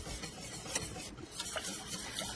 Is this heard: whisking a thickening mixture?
yes